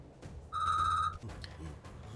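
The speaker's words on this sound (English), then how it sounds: "sorry about the phone" A telephone rings once, a loud bright electronic tone lasting about half a second, framed by quiet room noise and faint muffled sounds.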